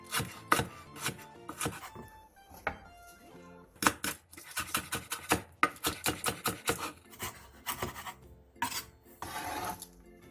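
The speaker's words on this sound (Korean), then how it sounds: "청양고추 2개, 홍고추 1개, 대파 1개를 어슷썰기 해주세요." Knife cutting chili peppers and green onion diagonally on a board, a busy run of crisp close chops in quick rhythmic bursts with short pauses between.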